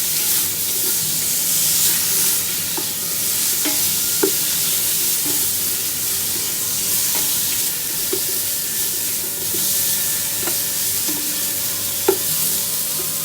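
Mutton curry with salt is stirred in a pan, a continuous bubbling sizzle with intermittent spoon knocks and scrapes against the metal, close and unaccompanied by talk.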